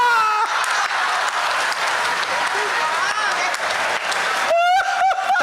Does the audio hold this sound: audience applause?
yes